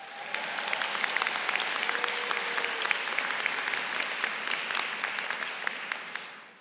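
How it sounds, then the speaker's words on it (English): Steady applause fills a College of Education graduation ceremony hall, a sustained wash of many hands clapping at moderate distance that holds evenly for several seconds before easing off. "give her applause"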